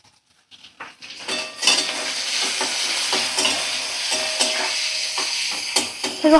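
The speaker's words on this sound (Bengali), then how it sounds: "একটু হালকা করে আমি নাড়াচাড়া করে নিচ্ছি, একদম মিডিয়াম ফ্লেমে রেখে হালকা করে আলু পেঁয়াজ আমি দেখো ভাজা করে নেব।" Potatoes and chopped onions with turmeric sizzle steadily in a pan over medium flame, overlaid by repeated scraping clinks of a spoon stirring against the metal, close and fairly loud with no talk.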